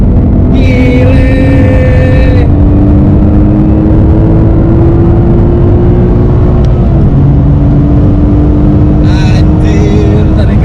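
A Nissan GT-R R35 accelerates hard in second gear with a loud, rising engine drone filling the cabin, while an excited voice shouts over it at the start and end.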